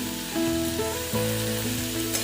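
Potatoes fry with tomato and salt, giving a brief, loud, steady sizzle close by with a couple of stirring scrapes.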